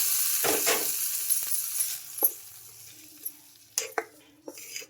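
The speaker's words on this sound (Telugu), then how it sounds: "చట్నీలోకి అయితే పోపు అయితే వేసుకుంటున్నాం" Hot tempering is tipped into ground lentil chutney, giving a sharp burst of sizzling that quickly fades, followed by a few scattered clinks of a spoon or vessel nearby.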